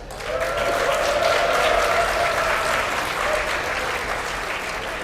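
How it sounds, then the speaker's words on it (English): A tournament crowd applauds and cheers for a player before an ace match in a competitive game, with loud sustained clapping that swells quickly and holds steady. "Give a cheer if you would like him to win."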